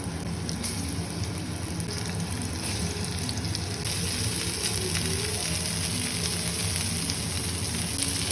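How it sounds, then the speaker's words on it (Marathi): Halwa fish pieces sizzle in hot oil for a Malvani fry, a steady, dense crackle and hiss that stays loud and unbroken throughout. "तेल चांगला गरम झालेला आहे. आता एक एक करून मी सोडतोय."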